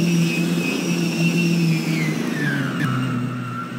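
An airplane passes overhead, its steady engine drone and whine holding strong before the pitch slides lower as it moves away, heard alone without talk.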